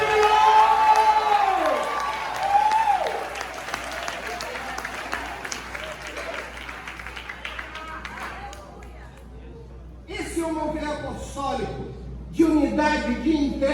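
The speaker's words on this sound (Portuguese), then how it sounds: "Vamos dar um grito de júbilo" A church congregation at a consecration service cheers and applauds in a burst of shouting and clapping, loud and crowded at first, then fading under scattered voices before fresh rises of shouts later on.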